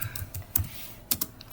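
Java code being typed on a computer keyboard: a few scattered, crisp keystrokes heard up close over a quiet room, with no voices.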